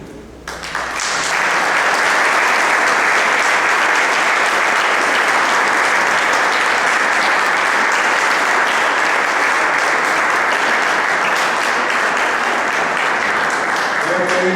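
A loud, sustained wave of audience applause at a book presentation, following a closing speech; after a brief quiet start the clapping surges and stays dense and even for over ten seconds.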